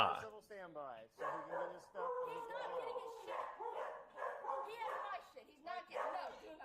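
Several dogs bark, yip and whimper repeatedly in quick, uneven bursts, fairly close and moderately loud.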